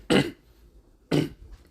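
Two sharp, close coughs from a man, spaced about a second apart, each a short harsh burst with quiet breathing in between and no talking.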